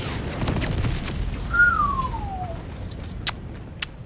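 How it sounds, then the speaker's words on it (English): Airstrike in the video game Helldivers 2: a falling whistle glides downward through a steady rumble of battle noise, followed by a couple of sharp, brief blasts at moderate distance, with no voices. "Is that an airstrike?"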